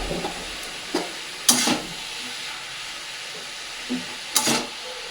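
Boiled cabbage and fried potato cooking in a pan make a steady steamy hiss and sizzle, broken by a few sharp clinks and scrapes of stirring, with no voices.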